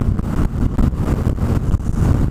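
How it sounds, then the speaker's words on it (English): Strong wind buffets the microphone on a fast motorcycle ride across a highway overpass, a loud, continuous low roar that pulses and gusts throughout, with no talk. "it's going to be windy on this overpass"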